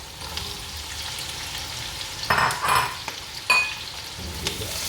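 Onions, ginger, garlic and celery sauté in a pan for an Indonesian stew, a continuous soft sizzle punctuated by a few louder scraping stirs near the middle, heard up close without speech.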